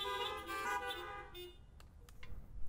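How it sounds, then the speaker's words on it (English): Car horns honk in a church parking lot, a short cluster of overlapping toots heard from a distance that trails off into quiet. "Give me a quick honk on your horn."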